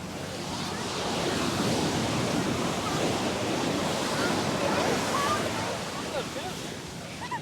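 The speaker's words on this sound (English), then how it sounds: "look at that shore break. It's bashing down" Shore-break waves crash and wash continuously onto a Sydney beach in a loud, broad roar, with wind buffeting the microphone throughout.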